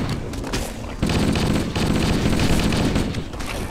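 Sustained gunfire in the first-person shooter Halo: Combat Evolved, in The Library level, a dense loud barrage of overlapping shots and blasts running throughout with no pauses.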